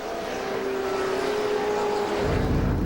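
The number 8 Quaker State Porsche IndyCar race car, a March chassis with a purpose-built Porsche IndyCar engine, holds a sustained, high, steady engine whine over dense broadband roar that runs the whole stretch.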